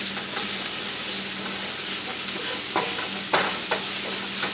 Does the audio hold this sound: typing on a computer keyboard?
no